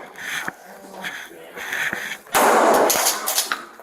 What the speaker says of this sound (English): An officer discharged multiple less lethal stun bags at the suspect, causing him to comply.